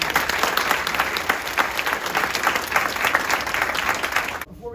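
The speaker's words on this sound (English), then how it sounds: "So please give them a round of applause for all of them." Audience at a school volunteer night clapping steadily, a dense, fairly loud round of applause lasting several seconds before cutting off abruptly at the end.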